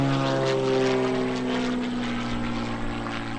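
An Extra 300 aerobatic propeller airplane drones steadily at an airshow, strong engine hum and buzzing harmonics, loud and continuous through snap rolls and corkscrew maneuvers.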